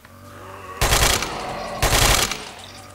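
Two loud, close bursts of M4 rifle gunfire in DayZ, each a rapid automatic string lasting about half a second, separated by a second of quieter background.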